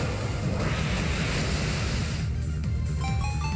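A steady, dense rush of splashing water from the Waterfall move in Pokemon Omega Ruby, loud and continuous throughout, with faint high chimes coming in near the end.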